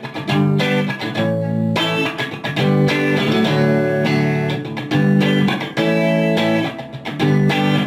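An electric guitar in open D tuning plays a riff, open strings hit twice between chord stabs in a steady, loud, close rhythm with no voices.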